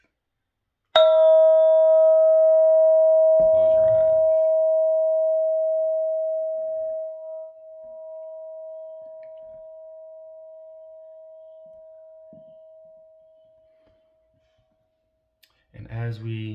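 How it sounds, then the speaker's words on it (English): A meditation bell is struck once during a mindful breathing session and its clear, pure tone rings on and slowly fades toward silence over about thirteen seconds; a calm voice speaks briefly at the very end. "as we listen to the fade of the bell"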